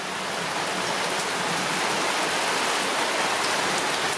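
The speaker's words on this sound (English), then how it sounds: "I thought I'd just show you a quick 5 minute jobby of what the rain's like here when it does rain." Heavy tropical rainfall in Negril, Jamaica, a dense, steady hiss of downpour that stays loud and unbroken throughout, with no voices.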